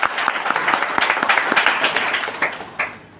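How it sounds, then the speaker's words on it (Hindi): A crowd at a public talk breaks into loud, dense applause, many hands clapping steadily and continuously for the whole stretch with no pause. "इस बात के लिए जोरदार तालियां बजाओ"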